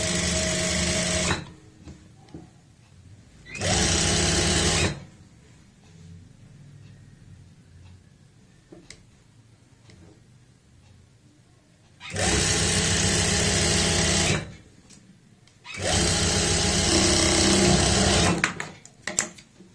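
A sewing machine stitches pant seams in four loud bursts of a few seconds each, with quiet handling sounds between runs.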